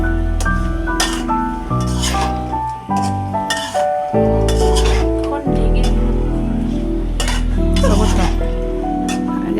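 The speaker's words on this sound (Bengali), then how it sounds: "এখন নাড়াচাড়া করে দিলাম এখন নেড়ে দিয়ে" Small shrimp and mixed vegetables are stirred in a pan, with scraping and light sizzle under a continuous voice and tonal background sound.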